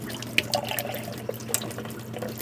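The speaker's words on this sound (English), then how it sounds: "Is there water pouring out the back there?" Water pouring and splashing out the back of a van from a water line, a steady trickling flow with a few sharper drips and splashes, close by and with no one talking.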